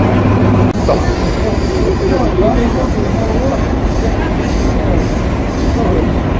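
Inside a first class train running from Sydney CBD to Melbourne, a loud, constant low rumble of the carriage in motion, with people talking over it.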